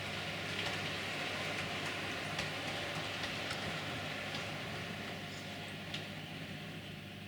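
A model HST train runs on layout track, a steady, fairly faint mechanical whir and rumble with light rail clicks throughout, and no voices.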